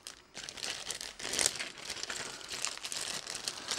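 A plastic bag crinkles and rustles steadily while a Leeventi teleprompter is unboxed, close to the microphone with no talk over it.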